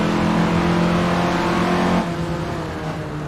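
A 1950s Indy sprint car engine in Assetto Corsa revs hard and steady, then drops in pitch as the throttle eases about two-thirds through, loud and close with no talk.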